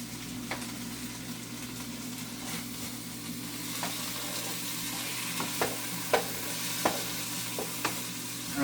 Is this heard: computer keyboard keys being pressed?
no